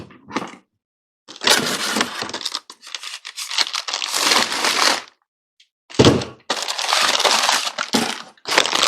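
Cardboard packaging from a Jet rolling bandsaw base being unpacked and set aside: loud bursts of crinkling, tearing and crushing with brief pauses between handling, close by, no talking.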